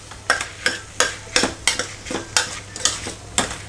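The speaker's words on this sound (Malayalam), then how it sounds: "നന്നായിട്ട് ഇളക്കി കൊടുക്കാം" Crushed green chilies frying in a pan for chicken curry while a spoon stirs them, the regular clacks of the utensil striking the pan about three times a second over a light continuous sizzle.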